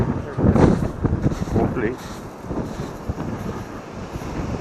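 Gale-force wind buffets the microphone on a beach, a rough low roar with gusty surges, while a voice speaks briefly over it.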